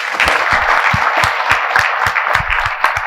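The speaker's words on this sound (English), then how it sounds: "Another round of applause for them." Audience applause at a mortgage business event: dense, steady clapping from a large crowd fills the whole stretch at an even, sustained loudness.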